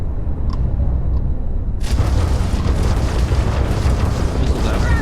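Missiles launching and exploding in Starfield space combat, a sudden heavy boom around two seconds in that swells into a sustained roaring rumble, loud and close.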